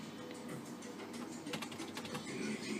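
Keys on a desktop PC keyboard are typed in a short burst of clicks at the BIOS setup prompt, set against a steady computer fan hum. The clicks are moderately loud and close, and no one speaks.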